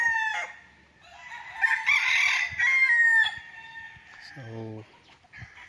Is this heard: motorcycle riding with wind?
no